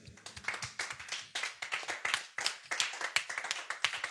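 Church congregation clapping to acclaim the Lord, a loose, uneven burst of many hands clapping in quick, irregular rhythm, fairly close and moderately loud.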